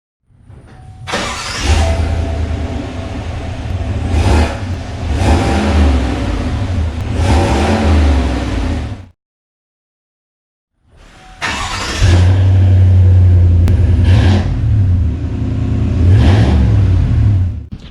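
A 2019 Chevrolet Silverado Z71 RST pickup with an aftermarket MBRP exhaust revs hard several times with a deep, throaty exhaust rumble, pauses briefly in silence, then revs loudly again in repeated surges.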